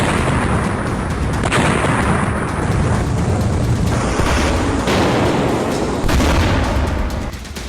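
Iranian missile attack on a US base in Qatar, near Doha: a loud, continuous rolling rumble of booms and blasts, with no pauses and no voices.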